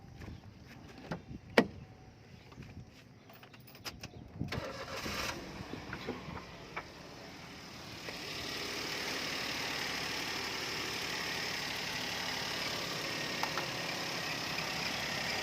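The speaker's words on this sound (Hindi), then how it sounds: "उसके बाद क्या है आप इंजन को स्टार्ट करें" A used car's engine cranks and catches after a few clicks and knocks, then settles into a steady, even idle that holds for the rest of the stretch.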